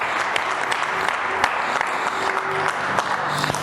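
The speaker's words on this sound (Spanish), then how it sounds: "Den un aplauso al Señor Yeshua." Church congregation clapping together in a sustained, fairly loud round of applause, dense overlapping claps filling the room without speech.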